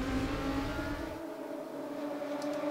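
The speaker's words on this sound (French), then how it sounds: "Moteur toujours V10, 5 litres 2, ça reste la même base à chaque fois" The 5.2-litre V10 of a 2019 Audi R8 LMS GT2 in the Raceroom racing game drones steadily at high revs, then the deep low end drops away and leaves a thinner sustained whine.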